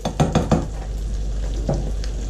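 Garlic sizzling in a pan while cooking dal, a steady soft frying hiss with a few quick stirring clatters near the start and once more later.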